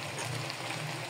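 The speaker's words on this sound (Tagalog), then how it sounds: "Ilalagay na natin ang ating huling gata." Coconut milk (gata) poured into a cooking pot, a steady close liquid stream pouring continuously for the brief moment without talk.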